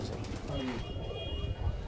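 A high-flying racing pigeon in a loft coos softly and briefly, while people talk close by over a low background hum.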